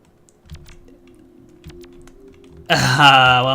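Rapid keyboard typing in the video game Yume 2kki, a soft patter of clicks under a low background hum, ending in a louder burst of tonal sound.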